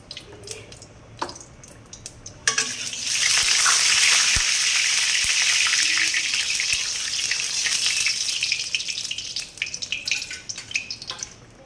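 Tangra fish frying in hot oil in a wok, a loud hissing sizzle that bursts in a few seconds in and holds steady before easing back, preceded by light kitchen clatter.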